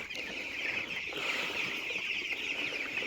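Chickens on a poultry farm on a cold early morning make a dense, continuous chorus of high clucks and peeps, steady and fairly close, with no one talking.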